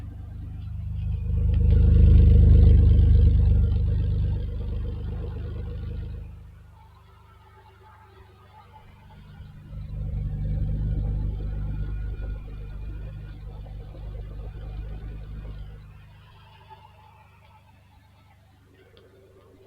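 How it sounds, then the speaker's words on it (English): A deep 1987 Ferrari Testarossa exhaust rumbling close by at idle, swelling into two low revs that rise and fade back to a steady idle burble. "we'll get a listen also to the exhaust"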